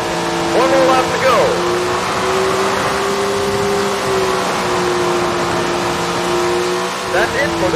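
A TQ midget race car engine in Tony Stewart's Sprint Car Racing on a qualifying lap: a loud, steady droning whine with shifting pitch, heard under a commentator's voice.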